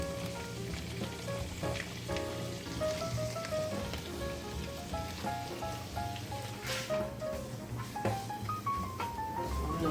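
Ground meat for lasagna sizzles steadily as it browns in a pan, a continuous crackling fry heard under background music.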